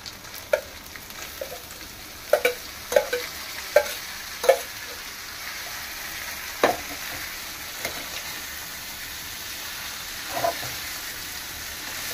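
Shredded cabbage frying in a pan with ginger and garlic, a soft continuous sizzle broken by scattered sharp clinks and scrapes of stirring, close and fairly quiet with no talk.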